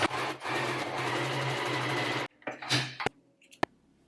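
A sewing machine top-stitches a fabric seam, whirring steadily for about two seconds, then stops, followed by a few clicks and light handling noises close by.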